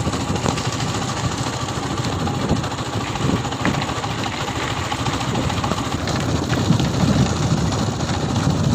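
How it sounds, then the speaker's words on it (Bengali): A motorbike engine starts and runs steadily at idle on the way to a barber's salon, a continuous close mechanical rumble with rough vibration and no talk over it. "বাইক নিয়ে নিলাম আর চাবি দিয়ে দিয়েছি"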